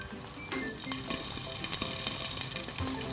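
Food fries in a hot pan, with dense sizzling and sharp crackling pops bursting irregularly, heard close and fairly loud with no talking.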